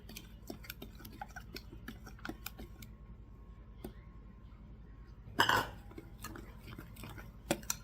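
Melted butter and eggs whisked together in a bowl for pizzelle batter, a run of quick light clinks and taps from the utensil against the bowl, close but quiet, then one louder clatter.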